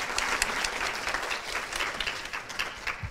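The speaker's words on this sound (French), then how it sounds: "Est-ce qu'on peut avoir quelques applaudissements pour nos intervenants" Audience at a conference applauding the speakers, a lively burst of many hands clapping close and full, slightly uneven in intensity, with no talk over it.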